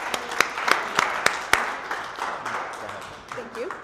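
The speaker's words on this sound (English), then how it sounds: "So let's give a huge applause for Cheryl Holtz." An audience applauds at a business talk, with a few sharp, distinct claps standing out early and a softer wash of clapping continuing beneath murmured voices.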